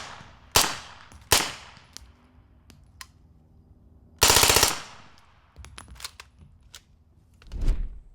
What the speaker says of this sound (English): This is the BOE Incolyte 9 on this Colt 9mm AR-15.